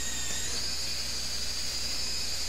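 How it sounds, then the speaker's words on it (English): A drill bores peg holes along the stern deck stringer of an Aleut baidarka, giving a steady, continuous high whine with a hissing edge throughout, close and fairly loud, with no speech. "Now he's going down the stern deck stringer, drilling and pegging"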